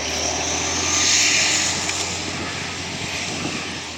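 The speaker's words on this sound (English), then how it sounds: "You probably won't hear us very well while the engine is actually roaring, but it's an impressive sound" A heavy engine roars steadily and loudly, a broad rumbling drone that swells slightly and then holds, with no talking over it.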